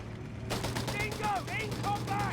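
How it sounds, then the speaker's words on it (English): Rapid machine gun bursts from an MG42 in a Company of Heroes 3 battle, crackling steadily over ongoing game noise and a low hum, with a voice talking over the firing. "the MG42 tearing into there"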